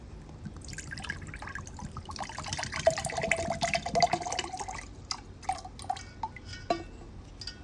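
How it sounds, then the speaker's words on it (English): Coconut water drains out of an opened coconut in a quiet, irregular trickle of drips and splashes that runs steadily for several seconds, faint and close, with no talking. "Let's see if we can get that coconut water out of this one here."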